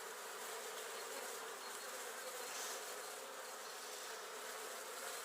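Dense, continuous buzzing of many honey bees at a bee farm in spring fills the air, steady and fairly loud, with no voices.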